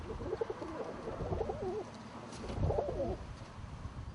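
Chinese owl pigeons coo softly at close range, two rounds of low bubbling coos separated by a pause, with faint background noise.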